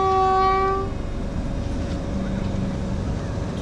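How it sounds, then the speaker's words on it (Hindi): Train locomotive approaching, opening with a loud, clear horn blast of about a second, followed by a steady low rumble of rail noise that continues to the end. "एक लोकोमोटिव आ रही है"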